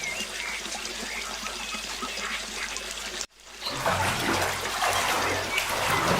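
Water splashes and trickles steadily for a cartoon crow bathing, a continuous wet wash that cuts out briefly and then returns rougher and louder.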